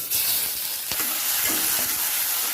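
Cumin seeds sizzle loudly in hot oil for masala khichdi, a steady, close frying hiss with faint clinks of stirring and no voices.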